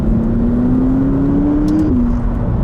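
Cabin engine note of a McLaren 570GT supercar accelerating, a loud steady drone whose pitch climbs smoothly, then drops briefly at a gear change before carrying on.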